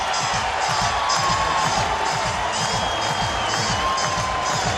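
A sold-out homecoming crowd at Milan Puskar Stadium, where West Virginia hosts Kansas State in college football, roars and cheers in a dense, loud, continuous wall of sound with scattered whoops and claps.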